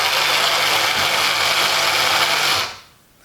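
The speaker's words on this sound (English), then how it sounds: "It obviously loses the electrical contact on the motor and shuts down." Electric motor of a vintage English-made Merit derby horse racing tabletop game whirs steadily and loudly, then cuts out abruptly near the end as it shuts off.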